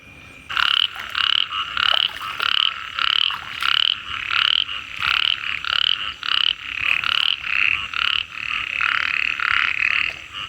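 Frogs croak after heavy rain in the countryside, a loud, close chorus of rapid, rhythmic pulsing calls that keeps going throughout with almost no pauses, and nobody speaking.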